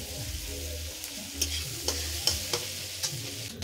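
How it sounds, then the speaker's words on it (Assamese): Broccoli, carrot and mushroom stir-fry in a pan with a constant sizzle, punctuated by several sharp clinks and scrapes of a utensil against the pan at irregular intervals, no voices. "এই মিক্স ভাজি এখন বনাইছোঁ ব্ৰকলি গাজৰ আৰু মাছৰুম"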